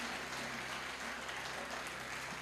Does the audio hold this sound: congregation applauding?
yes